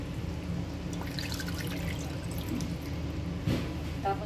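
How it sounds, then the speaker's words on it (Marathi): Hot water is poured into a pressure cooker of chicken biryani, giving a faint, steady trickle and slosh with light drips. "आणि हे आपण आता जे पाणी टाकतोय ते आपण छान गरम पाणी टाकतोय"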